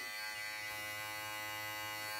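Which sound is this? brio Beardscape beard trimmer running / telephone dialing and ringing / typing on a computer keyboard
brio Beardscape beard trimmer running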